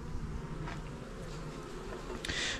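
Honeybees buzzing around Apidea mating boxes while honeycomb is handled, a close, continuous hum of many wings with a brief louder pass of a bee near the end, no talking.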